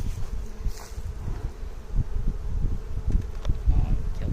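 Honeybees swarm around an open hive during a spring inspection, producing a steady low buzz that fills the clip, with individual bees droning close by and no talk.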